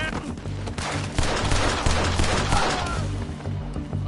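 Rapid video game gunfire in a PS4 shootout, a dense run of overlapping shots and bursts that stays loud throughout over a steady low musical drone, with voices faintly mixed in.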